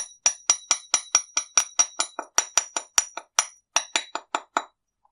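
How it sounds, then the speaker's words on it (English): A quick series of light, ringing metallic taps as a hammer lightly strikes jewelry wire for a wire-wrapped pendant, about twenty in a steady rhythm, then stopping; close and crisp with no talking. "you can work hard on it to help it keep its shape whilst weaving by hammering it lightly"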